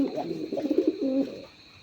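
A male Rajgolla pigeon coos excitedly at a female in a short burst of throaty, rolling coos, close and clear, ending in quiet.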